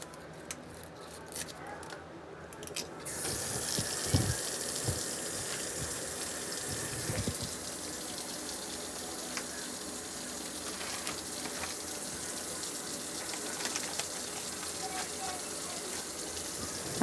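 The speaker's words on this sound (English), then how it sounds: "I just put regular tap water in." Regular tap water runs steadily into a pot of onion peelings and trimmings for broth, a continuous gushing fill that swells after the first few seconds and carries on alone to the end.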